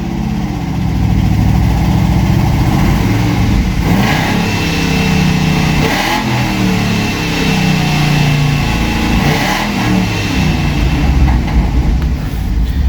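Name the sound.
car engine being revved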